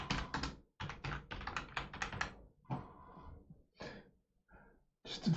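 Computer keyboard typing in quick bursts of clustered keystrokes, close and clear, with short pauses between runs and faint breathing audible in the gaps.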